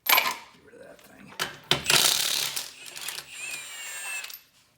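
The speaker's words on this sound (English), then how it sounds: "I'm going to blast the wheel off real quick" An air impact wrench spins lug nuts off a Toyota Land Cruiser wheel during a front brake job, giving short loud bursts of rattling and ratcheting with metallic clinks between them, close by.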